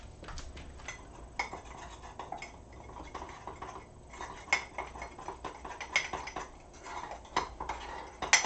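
Spoon stirring a cupcake mixture in a bowl: continuous light scraping with irregular small clinks against the bowl, close and moderately quiet, with no talking.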